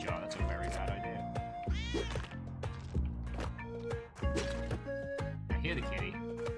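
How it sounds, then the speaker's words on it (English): Cartoonish cat meows ring out in the cave game Spelunky 2, repeated short mews scattered over busy game music and effects while someone talks throughout. "I hear the kitty."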